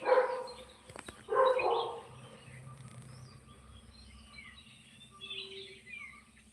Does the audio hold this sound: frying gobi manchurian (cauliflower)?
no